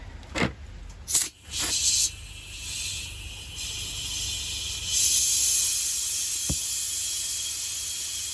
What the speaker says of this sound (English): we're gonna see if I got enough air pressure here to fill up get the tire reset